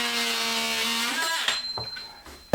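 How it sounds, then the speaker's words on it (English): Silicone caulk being scraped and pried from around a vanity sink backsplash, a steady close grinding scrape that fades into scattered small scraping and tapping noises, ending with a sharp knock. "Trying to remove the silicone around this backsplash."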